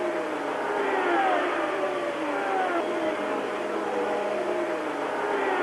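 Formula 1 cars race at Imola, among them a Brabham BT49 braking late into the chicane. High engines whine and rev steadily, with pitch sweeps as the cars slow and pass, in a sustained, fairly loud stretch.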